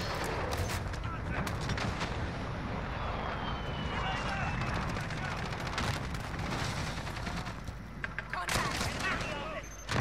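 Repeated gunfire bursts from a shotgun in Modern Warfare gameplay on the Shoothouse map, loud and dense throughout, with a voice talking over the shots.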